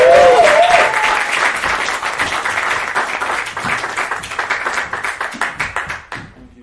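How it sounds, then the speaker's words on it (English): Studio audience applauds a comedian walking up to the mic, dense clapping that gradually thins into scattered claps before stopping. "Thank you for clapping almost till I get all the way to the mic."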